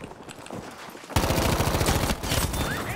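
Enemy gunfire from a house in the Battlefield 5 video game: a faint patter of shots, then from about one second a loud, sustained burst of rapid automatic fire that keeps rattling without pause to the end.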